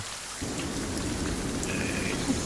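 Heavy rain pours down steadily outdoors in Ohio, a dense, constant close wash of drops that swells in after a quieter first half second, with wind woven through the roar.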